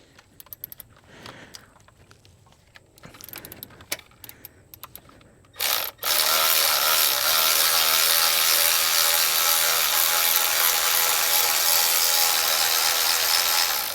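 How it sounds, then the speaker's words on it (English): Ratchet wrench works the tensioner bolts on a Chevy Ecotec 1.4L turbo engine, giving bursts of quick, close clicking, then a loud, steady whirring noise that runs continuously to the end. "So let me go get my ratchet."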